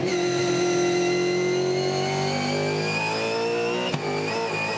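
A 2015 V8 Supercar racing at Sydney Motorsport Park that may have a fault roars past, its loud engine note sliding steadily downward in pitch as it moves away, with a sharp click near the end.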